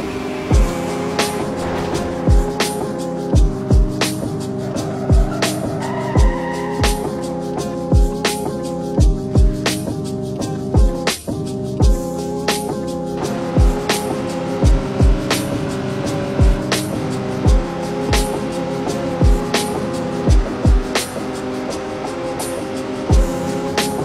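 Car driving in the video game Mad Max, with a continuous engine drone under a steady beat of repeated sharp thumps and a brief squeal-like burst near the middle, no voices.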